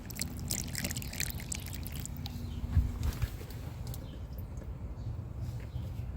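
Water from a Gatorade bottle poured into the windshield drain channel of a C6 Corvette, a low, steady splashing trickle that runs throughout, fading toward the end.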